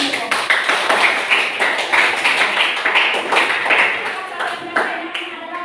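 Classroom students clap their hands in a quick rhythmic pattern of sharp, close claps lasting several seconds, with voices mixed in among the beats.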